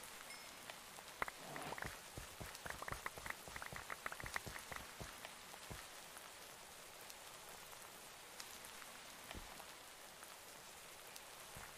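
Steady pattering rain falls across a blocky Minecraft world, a dense hiss of drops with scattered louder splats, heaviest in the first half and then settling into a soft, even wash with no talking.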